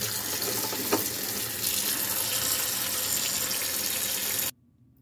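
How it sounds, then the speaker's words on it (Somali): Running water pours steadily from a tap as something is rinsed and washed beneath it, a continuous splashing hiss that cuts off abruptly near the end. "xawaaye waa iska dhaqay"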